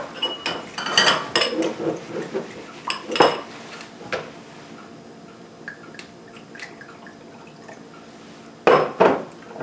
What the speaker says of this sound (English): So now, I'm going to stir these up a little bit.